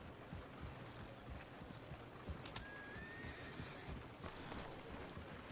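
Horses at a stable in an open-world western video game, with clip-clopping hooves and a clear whinny over a faint, steady ambient bed, no speech.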